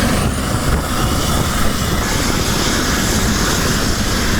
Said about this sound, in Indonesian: Evakuasi medis dilakukan menggunakan helikopter Dolphin Basarnas